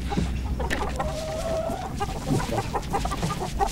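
A chicken clucking nearby, with several short clucks and a drawn-out squawk over low background noise.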